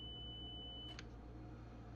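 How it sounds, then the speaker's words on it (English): A Class 92 locomotive's DVD warning in Train Simulator Classic gives one constant, steady high-pitched beep. It holds at the same pitch over the low engine hum, then cuts off with a brief click. "It's just a constant beep."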